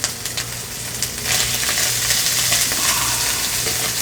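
Food sizzles and fries in a pan on a Gas One camp stove while being stirred with a multi-tool, a steady loud hiss with a few faint scraping taps near the start.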